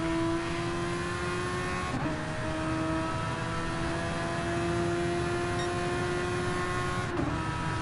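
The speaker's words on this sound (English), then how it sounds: "Still way into that rev limiter there, Pete" Race car engine in a PS4 racing game held against the rev limiter, a steady loud high-revving drone with flat sustained tones and brief stutters, continuous throughout.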